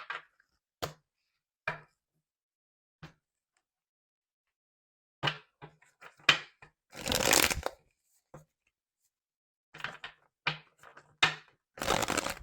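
Tarot cards are shuffled in short, sharp riffling bursts separated by silent pauses, with a longer flurry near the middle and several quick bursts toward the end, close and crisp, with no voices.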